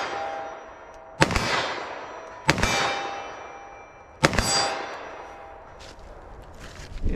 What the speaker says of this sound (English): I'm just going to try to hit the steel as fast as I think I can hit it.